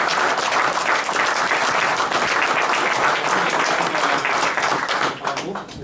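Loud, sustained applause from a large crowd at a writing contest prize ceremony in Gentioux, a dense wash of clapping that holds steady and dips slightly near the end.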